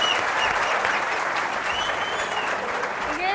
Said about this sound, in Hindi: ये सारे मर्दों ने ताली बजाई है, किसी भी औरत ने ताली नहीं बजाई।